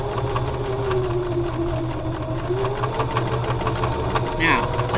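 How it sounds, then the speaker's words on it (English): A sewing machine runs slowly and steadily through zipper tape and cork fabric while making a bag, giving a continuous close mechanical hum with a faint rhythmic needle chatter throughout. "we're going to just start sewing right there and go nice and slow"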